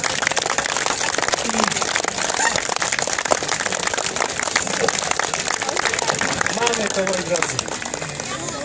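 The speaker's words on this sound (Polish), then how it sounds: "Klaszczecie fantastycznie, ale więcej życia." An outdoor audience at a high jump show clapping continuously in a dense, steady wash of applause, while someone talks loudly over it through a microphone.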